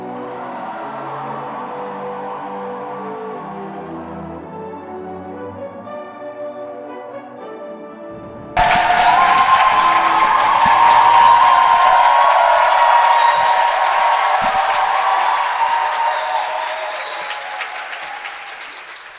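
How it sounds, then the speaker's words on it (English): After a music passage cuts off, a conference audience at a world peace event in Europe bursts into loud, sustained applause and some cheering welcoming Chairman Man Hee Lee, the clapping swelling then slowly easing. "Let us welcome with a big round of applause this year's most active and most appreciated peace messenger, Mr. Man Hee Lee"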